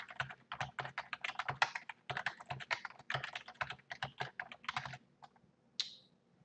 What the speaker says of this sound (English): So you just put in your email address.